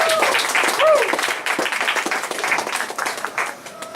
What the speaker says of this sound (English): So please give Feng some applause here